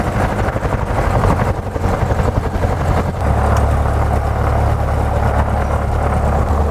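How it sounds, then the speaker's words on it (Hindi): An aircraft engine starting up and running, a loud steady mechanical roar with a low rumble that strengthens and settles into a constant drone partway through. "Okay, now we are about to start the aircraft."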